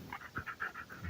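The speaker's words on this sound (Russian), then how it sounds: "Вот собака попала в петлю" A dog caught in a wire snare set for musk deer on a forest trail pants in quick, rhythmic breaths, about eight of them, faint and steady with no voices.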